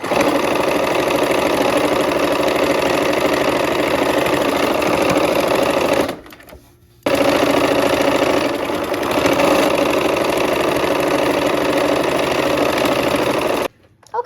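A sewing machine stitches quilt pieces on a scant quarter-inch seam with the needle left down, giving a loud, steady close-up whir that pauses briefly midway and again just before the end.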